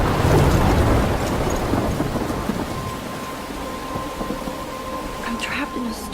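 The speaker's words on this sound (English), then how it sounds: "I'm trapped in a storm?" Thunderstorm in the Life Is Strange video game on PS4: steady heavy rain hisses throughout, with deep rolling thunder loudest at the start and fading to a softer rumble under the downpour.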